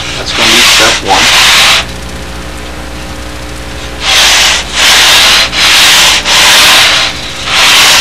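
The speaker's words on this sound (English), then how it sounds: "We have that nice sanding belt that's glued to a table." Loud, harsh rasping bursts of sanding wood pieces on a table-mounted belt sander, several strokes of about a second each separated by a steady motor hum.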